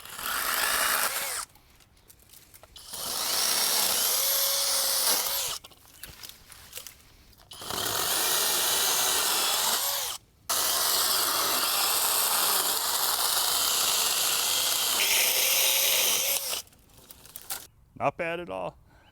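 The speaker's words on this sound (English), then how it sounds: "Not freaking bad for this little 20-volt tool with its 2-amp-hour battery." A Skil 20-volt cordless pole saw running on a 2-amp-hour battery cuts through brush in several loud, sustained bursts, each a few seconds long, separated by short pauses.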